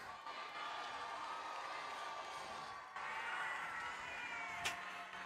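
A large crowd at a FIRST robotics state championship cheers and shouts for the Red Alliance, a dense, distant roar holding steady with a brief swell near the end.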